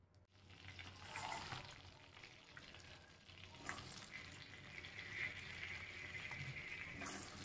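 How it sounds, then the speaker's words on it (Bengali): Butter sizzles in a kadai before paneer goes in, a soft, close frying hiss with occasional stirring scrapes and a few brief clatters. "কড়াইতে বাটার দিয়ে দিয়েছি"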